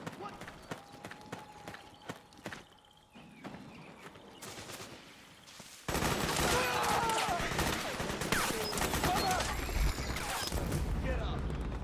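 Suppressing gunfire in Metal Gear Solid 4 starts as scattered shots under shouted voices, then breaks into a dense, loud burst of sustained automatic fire for the last six seconds.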